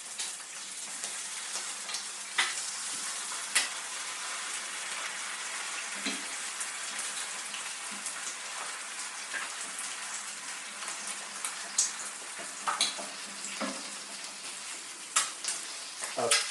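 Eggs and sausage fry in a pan with a steady, bright sizzle and crackle, broken by occasional sharper pops and spits; close and continuous, with no talking.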